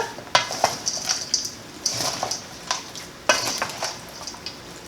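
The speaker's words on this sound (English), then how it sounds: "is add the dressing. Then give it another good stir." Dressing is stirred into an Asian cabbage noodle salad with wet, squelching tosses and repeated utensil clinks against the bowl, loud and close with no talking.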